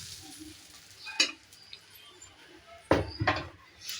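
Dosa batter made from rava sizzles on a hot pan, with a steady quiet hiss and brief louder crackling bursts as more batter is poured, no talk.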